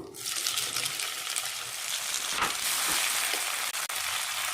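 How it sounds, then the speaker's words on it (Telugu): Chopped tomatoes frying in a hot pan for tomato rice, a steady close, dense sizzle that runs without a break, with faint stirring scrapes and a couple of brief dips near the end. "అన్నీ కూడా ఫ్రై అయిపోయినాయి. సో ఇప్పుడు నేను టమాటో వేసుకుంటున్నాను."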